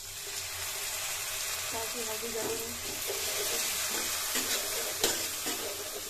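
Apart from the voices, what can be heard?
water being poured into a pan of spinach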